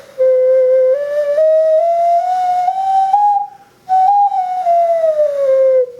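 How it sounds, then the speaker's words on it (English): A handmade ceramic whale whistle with six finger holes is blown in two long pure tones that glide slowly upward in pitch, separated by a short pause, loud and close. "So you're going to blow in here. And we ended up getting 6 holes there. And the mechanism blows out here. This is where it whistles."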